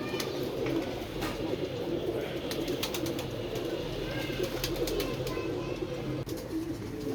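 A Sialkoti pigeon coos steadily amid a busy, noisy background with faint clicks and scattered chatter, the calling continuous across several seconds.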